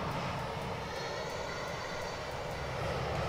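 Steady, even roar of Boeing 747-400 jet engines in the X-Plane flight simulator, a continuous broadband drone with no breaks and no talking.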